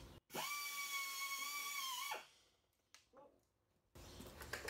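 A power drill whines at high speed with a strong steady tone for about two seconds, then spins down, with brief faint handling noises before another burst of noise near the end.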